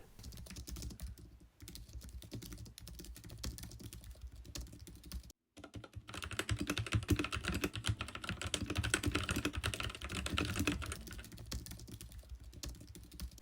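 Steady, continuous typing on a computer keyboard, dense clicking keystrokes at close range with a brief pause partway through, then resuming louder and busier.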